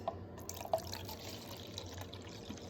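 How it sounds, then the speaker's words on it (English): Liquid poured back and forth between bottles makes a faint, close trickle with a few soft drips and gurgles, quiet and alone. "pour it back and forth"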